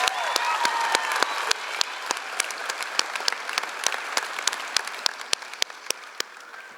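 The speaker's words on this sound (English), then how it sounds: "And let's have another round of applause for Kiernan" A graduation ceremony audience gives a sustained round of applause: dense, steady clapping from a large crowd that holds at an even level for several seconds, with no talk over it.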